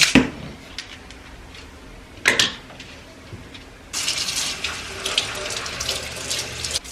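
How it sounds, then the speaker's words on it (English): Tap water runs over pork baby back ribs being rinsed in a sink, starting with short splashy bursts and then a louder continuous stream near the end. "Just rinse them off real quick."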